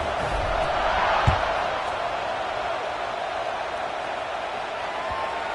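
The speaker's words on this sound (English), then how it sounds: "this crowd is buzzing after that last score" A football video game crowd buzzes steadily after a touchdown, a broad continuous roar with one sharp thud near the start and a faint knock later.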